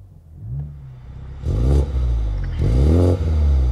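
A Toyota GR Supra 2.0 (258 PS) engine in normal mode revs up in two surges, each a deep rumbling climb with some clatter, then settles back between them.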